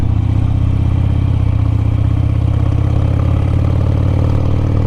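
A Harley-Davidson Sportster engine rumbles loudly and steadily while riding, its low, throbbing pulse carrying close and constant throughout.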